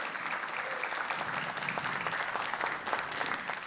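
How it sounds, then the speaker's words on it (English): Audience at the Gallery Place Chinatown Task Force public event applauds council member Brooke Pinto: a dense, steady wash of many hands clapping that holds evenly throughout, with no voices over it. "Please give her a round of applause."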